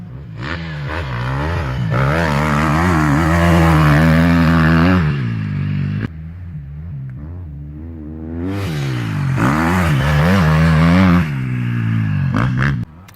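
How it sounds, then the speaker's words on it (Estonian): A diesel farm tractor's engine revs hard and loud up close, climbing and falling in pitch with rough mechanical clatter, two long surges separated by a brief drop, no voices. "Siuke mõnus tööpill, diisel, möllab hästi"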